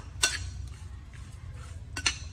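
Metal utensils clink against a bowl while marinated pork for braised pork with quail eggs is stirred, with a few sharp bright taps near the start and end over a low steady kitchen hum.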